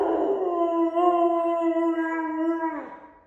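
A dog howls in one long, wavering, rising-and-falling note lasting a few seconds, close to the listener, with no voices.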